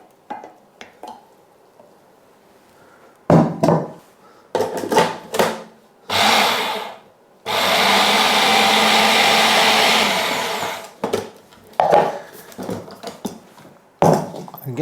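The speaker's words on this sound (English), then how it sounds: "now we're going to get it tipped into the food processor and whiz it until it's" Food processor whizzing cooked vegetables for a Christmas side dish until smooth, a loud steady whirring roar lasting several seconds, framed by clattering and scraping before and after.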